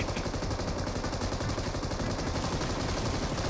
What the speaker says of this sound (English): dude, just bots just start firing